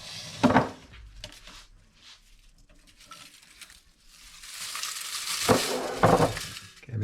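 Crispy dehydrated leeks lifted from dehydrator trays, crackling and rustling dryly in soft, uneven handfuls, rising to a louder, longer crunchy rustle toward the end.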